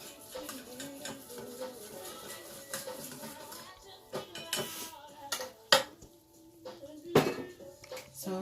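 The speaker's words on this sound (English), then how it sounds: "So I just mixed that cornstarch in with some water." A spoon clinks and scrapes against a bowl while cornstarch and water are stirred into a slurry, giving irregular close metallic taps and clatters that grow sharper toward the end, with faint talk underneath.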